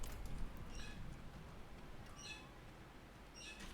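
A pet bird squawks and chirps in short, bright bursts three or four times, fairly faint against a steady low hum.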